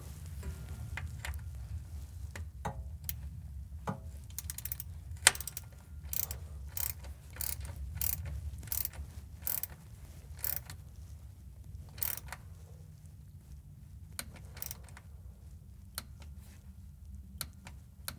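A torque wrench tightens a bolt on the NSG370 six-speed manual transmission of a Jeep TJ, giving a run of sharp, irregular ratchet clicks close by, with quiet mechanical hum between them.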